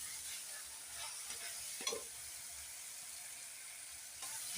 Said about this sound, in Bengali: নেড়ে দিলাম ভালো করে